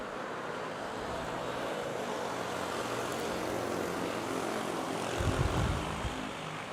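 Saudi Boeing 777 airliner in retro livery taking off at Manila's NAIA airport, a steady broad jet-engine roar from a distance with a low rumble swelling near the end.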